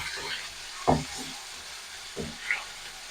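Tomatoes sizzling and frying in hot oil as they are stirred, a steady soft hiss broken by a few sharp scraping clacks of the spoon against the pan.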